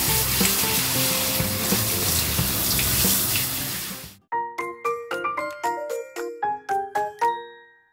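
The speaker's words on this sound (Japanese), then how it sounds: "3、マッサージ&スプレ ー。 全体的に散水し、 快適なシャワーを体験できます。" A water-saving shower head set to its massage and spray mode gives a steady, loud hiss of spraying water for about four seconds, then the spray cuts off and a series of clear chiming tones follows.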